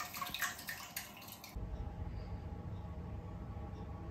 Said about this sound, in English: I'll just pop these leaves in the sink now for a little soak so we can wash off all the dirt